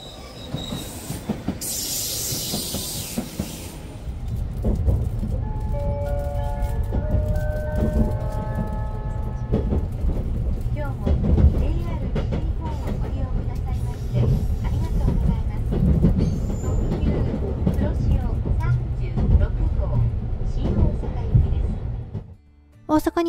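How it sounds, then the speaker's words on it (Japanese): A Kuroshio limited express train made up of former Ocean Arrow cars runs along the track, heard from inside as a steady low rumble with rhythmic wheel clatter, occasional squealing, and brief tones near the start. "特急黒潮で大阪まで向かいます"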